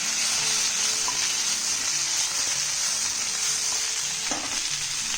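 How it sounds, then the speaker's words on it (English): Potato slices for a crispy masala potato fry stirred in a hot pan, a continuous loud sizzle with faint scraping of the spoon, close and steady, no voices. "And a quick stir."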